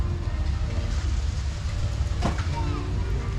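An Allis-Chalmers B four-cylinder tractor engine runs steadily after starting, a low continuous rumble with a brief sharp rattle partway through, all fairly loud and close.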